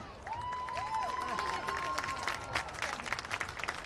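Applause and cheering from a crowd at a homecoming night ceremony at a high school football game, steady clapping in the stands with a faint whistle, heard at a distance.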